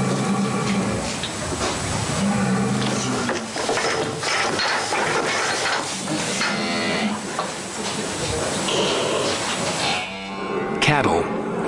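Several cattle moo loudly and repeatedly over a noisy, busy background, with long drawn-out lowing calls overlapping one another.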